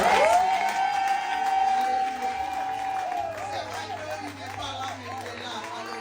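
A church congregation at an evangelistic service claps and cheers for the Lord in a sustained wave of crowd noise, while a high drawn-out voice and scattered shouts rise above it.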